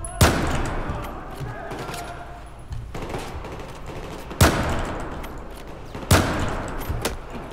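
Gunfire in the video game Battlefield 4 comes as three sharp, loud shots spaced a couple of seconds apart, with a rattle of battle noise in between.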